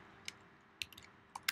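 Keystrokes on a computer keyboard with a broken R key, entered as a few scattered clicks in short bursts over a quiet background hum.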